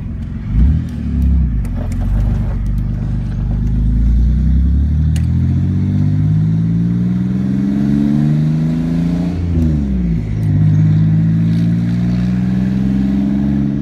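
A Camaro with a twin-turbo L36 3800 V6 drives and revs, its engine note sweeping up and down repeatedly with clattery mechanical texture, loud and close throughout.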